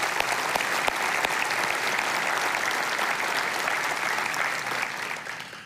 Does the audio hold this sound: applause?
yes